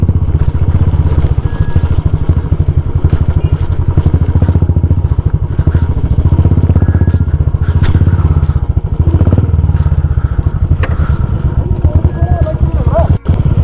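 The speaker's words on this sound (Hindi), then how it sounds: "दूसरे गियर पर भी बाइक बहुत मुश्किल से उठ रही है यहाँ पर" A motorcycle straining in second gear on a rough mountain road in Uttarakhand's Niti Valley, with a loud, steady chugging engine and occasional clatter from the bumpy ride.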